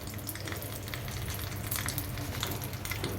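Cumin seeds crackling in hot oil in a pan that just fried onions, a dense, continuous close sizzle with brief pops, loud and steady with no voices.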